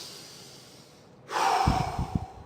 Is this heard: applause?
no